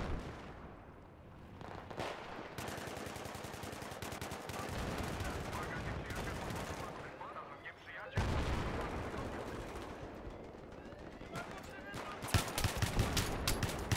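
Gunfire in the video game Battlefield 3 on the Gulf of Oman map during sniper play, steady bursts of distant shooting and explosions with a sharper cluster of shots near the end, under a fairly faint mix.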